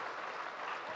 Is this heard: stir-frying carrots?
no